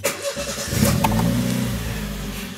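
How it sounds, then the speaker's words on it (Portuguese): A car engine cranks briefly and catches, then settles into a steady, close idle hum with a slight rev, while a camera is being installed on the car; no voices are heard. "Agora vamos dar partida aqui no carro."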